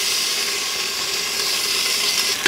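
Bacon pieces sizzling in a hot Instant Pot, a steady broadband crackling hiss that holds evenly throughout with no talking.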